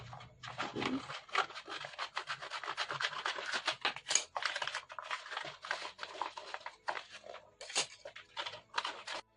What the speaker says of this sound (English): Then cut and trim the bottom like this.